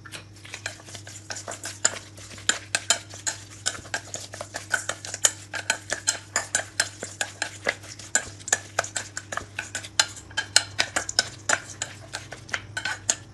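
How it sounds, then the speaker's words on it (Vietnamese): Frog meat being mixed with pepper and fish sauce in a bowl for a stir-fried frog and eggplant dish, a steady run of close, sharp utensil clicks and scrapes against the bowl, with a low hum underneath throughout. "Ta trộn đều lên."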